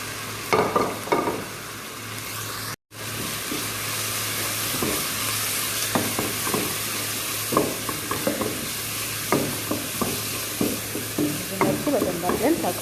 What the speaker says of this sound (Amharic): በደንብ አድርገን ታቆላላን